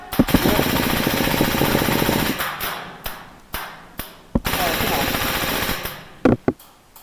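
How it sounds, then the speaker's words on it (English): HPA-powered airsoft Stoner 96 light machine gun firing rapid full-auto bursts outdoors during a game, two long loud rattling strings separated by single sharp shots and taps, with voices talking through it. "This LMG rips at a distance, Kayla."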